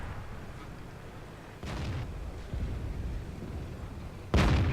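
Tank cannon shots in a World of Tanks-style battle, with a shell bouncing off the armor of an STB-1 tank fired by an FV4202: a few loud booming impacts over steady rumbling battle noise, the last blast close and heavy.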